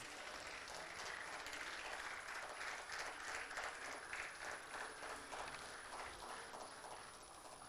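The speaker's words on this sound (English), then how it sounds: "So can we welcome once again Mr. Robin Hebu, pioneering IPS officer, Special Commissioner of Delhi Police, on the dais with a huge round of applause" A steady wash of distant audience applause welcoming a guest onto the dais at a university event, dense and even throughout, soft and slightly muffled.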